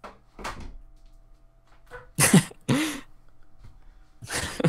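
Indoors, a door is shut with a few loud knocks and thuds close to the microphone, framed by quiet rustling and movement.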